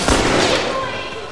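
A single loud gunshot blast from the video game The Last of Us Remastered booms and decays over about a second, with no talk over it.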